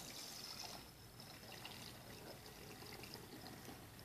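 A dark herbal extract made with Everclear and essential oils trickles and dribbles steadily through a filter while being made into an antiseptic wash, a faint continuous liquid sound with no voices.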